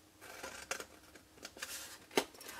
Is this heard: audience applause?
no